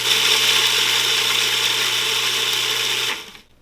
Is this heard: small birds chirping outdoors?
no